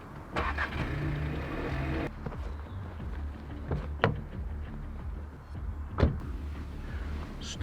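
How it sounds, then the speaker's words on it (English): A car engine running close by, a steady low rumble with brief rising revs and a couple of sharp knocks, in a tense short-film scene with no talking. "Aaron, start the car!"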